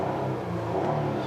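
The 3.3-liter direct-injection V6 of a 2017 Hyundai Santa Fe Limited runs at a steady idle in a brief, low, even rumble with no voices.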